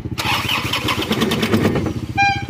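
A motor vehicle engine that had overheated from a clogged radiator cranks and catches, settling into a loud, close, rough idle, with a brief high whine at the end.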